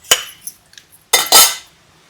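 Roasted peanuts tipped out of a metal pan make two bursts of rattling, clinking clatter, a short scrape first and then a louder, longer pour, close and bright.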